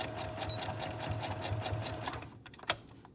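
A sewing machine stitches a fabric mask with a fast, even mechanical whir up close, then stops and is followed by a single sharp click.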